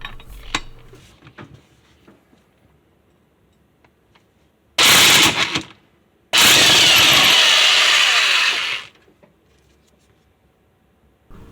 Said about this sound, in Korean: 앞쪽 와인딩의 이 축에 연결된 베어링의 컨디션을 확인하고 있는데요